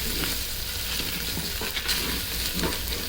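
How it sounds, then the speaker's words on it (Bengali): Potato pieces with turmeric and coriander powder fry in a pan for vuna khichuri while being stirred, giving a continuous loud sizzle with scraping strokes of the spoon and no talk. "এবার সব একসাথে ভালো করে নেড়ে খুব সুন্দর করে মিশিয়ে নিতে হবে।"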